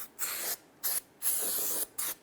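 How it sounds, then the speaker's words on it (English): Aerosol solvent spray hissing onto a Toyota Camry rear brake rotor in four bursts, the second short, the third longest, with brief pauses between, close and steady, no voices. "Go ahead and spray that down"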